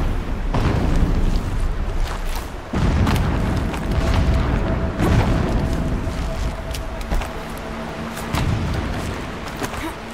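Distant explosions in the video game Horizon Zero Dawn: repeated heavy booms, several strong hits spaced a few seconds apart, with rumbling tails and crackle between them.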